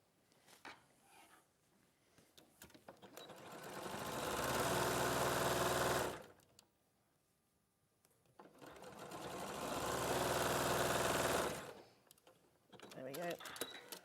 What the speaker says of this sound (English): And then I'm going to sew around that curved section now.